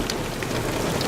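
Steady rain pours down outdoors among trees where sheep shelter, a dense, continuous patter close by with no voices.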